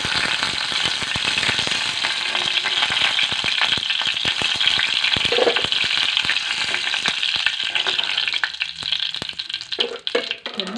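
Food sizzles and crackles in hot oil in a pan, with a steady bright hiss and scattered pops and scraping stirs throughout, close and fairly loud, with no voices.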